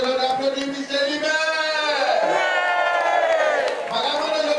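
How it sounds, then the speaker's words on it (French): A large crowd cheers and whoops loudly at a public gathering honouring Michel Libert, a steady roar of many voices with rising calls and shouts lasting the whole stretch. "Madame, on applaudit Michel Libert."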